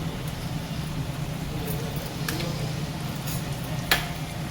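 Eggs frying in hot oil with chili powder in a pan, a steady close sizzle that holds throughout, with a few faint clicks and scrapes of stirring.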